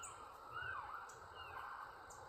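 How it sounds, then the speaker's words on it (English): A siren at a visitor center in the Appalachian Mountains, warning people to clear the road, wails faintly from far away in a rising and falling tone over quiet outdoor background. "You hear that siren"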